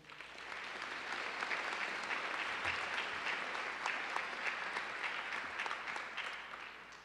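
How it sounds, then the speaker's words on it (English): Sustained audience applause fills a commencement ceremony hall, a steady dense clapping from a large crowd that holds at even loudness throughout with no speech over it. "Give them a round of applause, please."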